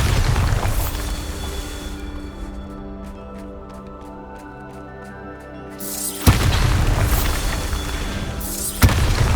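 A Bombarda spell blast in the video game Hogwarts Legacy: loud booming explosions with heavy low rumble, then a quieter stretch of ringing, then another sharp burst with a crash near the end.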